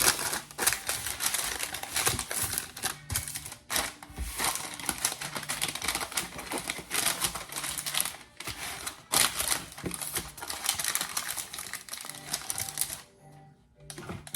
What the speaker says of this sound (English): So, got my parchment paper.